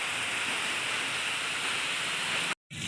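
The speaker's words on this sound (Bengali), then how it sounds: "দি বৃষ্টি পড়ছে" Steady rain falls in an even, close hiss that holds throughout, then cuts out abruptly in a brief silence near the end before resuming.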